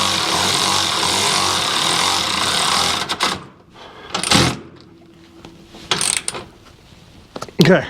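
Harness bar bolt on a Kawasaki KRX 1000 being tightened with a ratchet, a loud steady mechanical ratcheting run for about three seconds, then a few separate clicks and clanks close by.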